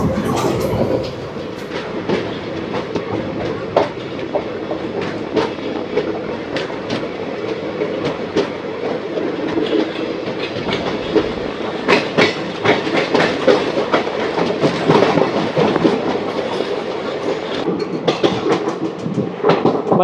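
The 17479 Puri Tirupati Express passes a station in India without stopping, a steady close rumble of rolling coaches with rhythmic clickety-clack wheel beats running throughout.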